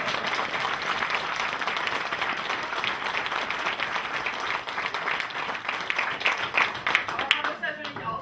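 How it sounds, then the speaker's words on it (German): Audience at a political Ash Wednesday rally applauds, steady dense clapping from a large crowd that holds loud and even throughout, with voices mixed into the noise. "Das ist auf jeden Fall auch ein Applaus wert."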